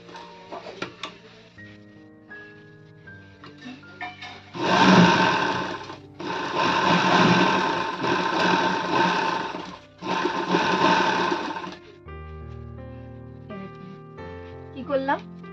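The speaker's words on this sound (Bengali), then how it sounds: "এবার সেলাই করবো কিভাবে দেখুন" A sewing machine stitches the pad into a princess cut blouse in several long, steady motor bursts, with a person talking in the pauses before and after.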